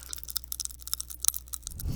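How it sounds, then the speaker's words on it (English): Ramune-flavored popping candy crackles inside a mouth, heard up close as a dense scatter of tiny fizzing pops and snaps, quiet and irregular, with no talking. "That's the sound of the candies popping."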